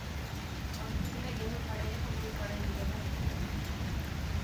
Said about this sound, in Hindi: कितनी तेज बारिश पड़ रही है।